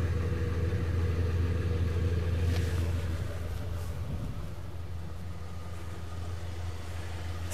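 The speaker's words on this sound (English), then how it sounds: "And just a single exhaust on here, which works just fine. This engine runs great." A 1967 Oldsmobile Delta 88 Holiday hardtop with a single exhaust idles steadily, a low even rumble close by with no talk over it.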